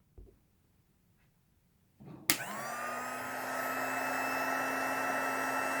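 A TackLife mini hot air heat gun clicks on and starts up with a sharp whine. It then runs as a steady, close blowing whir with a high-pitched motor tone that grows slightly fuller.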